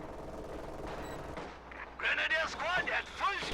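Gunfire and artillery crackle and thump through a Company of Heroes-style strategy game battle, a steady din of shots and booms, with a game unit's voice breaking in over the second half.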